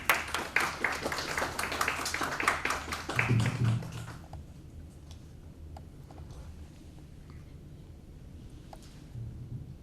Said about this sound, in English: So huge round of applause for all of them.